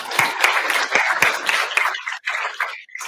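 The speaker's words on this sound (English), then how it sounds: "So let's everybody give him a round of applause." A keynote audience claps for a speaker, a burst of mixed claps that thins out and fades toward the end.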